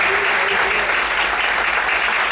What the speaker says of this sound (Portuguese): Vamos aplaudir e exaltar ao Senhor nesta noite